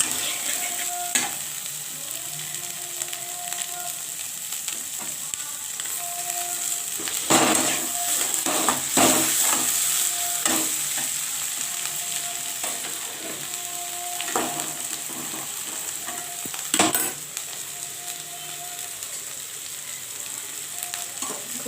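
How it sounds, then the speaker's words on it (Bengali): Masala for a cauliflower, potato and egg curry is sautéed over high heat, with a continuous close frying sizzle broken by repeated scraping strokes of a spatula against the pan. "এটা ভালো করে কষিয়ে নিতে হবে"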